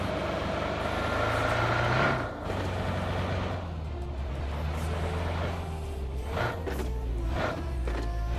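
A vehicle drives through a PUBG Mobile match on the Erangel map, its steady low engine drone running unbroken throughout, with brief louder bursts near the end.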